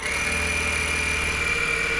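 A small electric air pump runs steadily, inflating suspension air bags, a constant close mechanical drone with a high whine and a pulsing low buzz, no voices.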